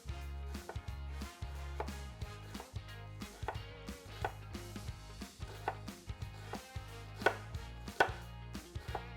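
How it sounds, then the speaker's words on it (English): A knife finely chops onion on a cutting board in quick, uneven runs of sharp taps that continue throughout, with soft background music underneath. "So I'm going to try to cut it as finely as I can."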